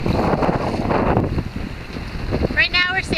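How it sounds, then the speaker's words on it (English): An Albin Vega sailboat cruising under sail, with steady wind buffeting and water rushing along the hull, a voice speaking over it, and a short rattling creak near the end. "Right now we're sailing into Dragon Point."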